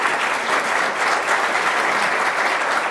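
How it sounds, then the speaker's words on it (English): An audience at an economic forecast event in Menifee applauds guest speakers, a loud, dense, sustained round of clapping with no break. "how about another final round of applause for our guest speakers?"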